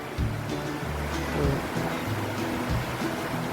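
Monsoon stream water rushing under a small village bridge near Nere, Panvel, as a continuous broad wash with low rumbling gusts and bumps, close and fairly loud.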